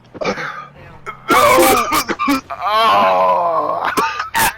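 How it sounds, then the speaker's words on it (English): A man coughs hard several times in loud, rough, strained bursts, some drawn out into groaning sounds, up close and overlapping with other voices. "When he coughs, it sounds like he's getting attacked by something"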